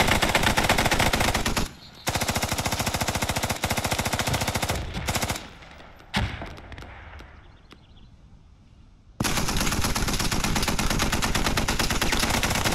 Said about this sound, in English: Open fire. Get on a 50 cal.